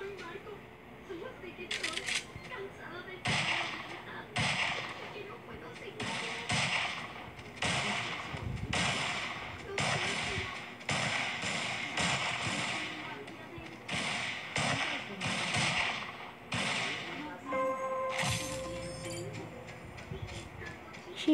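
Sniper rifle shots in a video game, a string of sharp cracks spaced irregularly over about twenty seconds, loud against a quieter background, with a voice talking in between.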